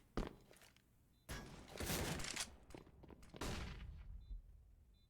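Gunfire in a Counter-Strike style match including an AWP sniper rifle, with several loud sharp shots and bursts separated by quieter gaps, heard alone without commentary.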